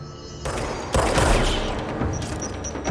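A grenade blast in the action game Control, set in a locked-down secret facility: a heavy booming burst with a rolling rumble and debris that fades over a couple of seconds.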